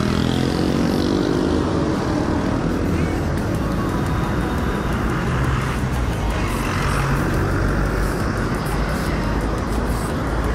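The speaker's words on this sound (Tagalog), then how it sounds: "Ingat lang dito mga katrip kasi maraming mga malalaking sasakyan dito." Steady road traffic on the national highway at Claro and Recto in Cagayan de Oro, with many large vehicles: a continuous loud wash of engines and tyre roar passing close by, with no speech.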